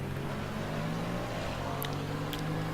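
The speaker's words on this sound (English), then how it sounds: "This Mercedes does really sound like a beast of a car." A Mercedes AMG GT3 race car in a racing video game at Barcelona, its engine a steady, loud, droning hum with a few brief high clicks, and no voices.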